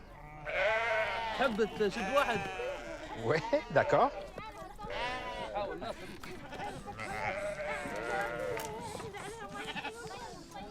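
Sheep bleat loudly and repeatedly, several overlapping calls close by as they are caught by hand during a livestock roundup in Tunisia, with people talking briefly among them.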